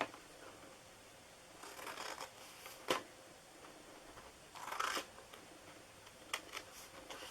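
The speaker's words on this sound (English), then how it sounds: "Now the bottom flaps, we're just going to cut up each one." Scissors snip through the bottom flaps of a paper Halloween treat box, a few quiet crisp cuts spaced apart, close up with no talking.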